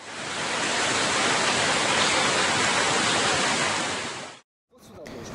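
Rainwater from a roof with no gutters pouring straight down a building's outer wall, a loud continuous rushing splash that cuts out briefly near the end.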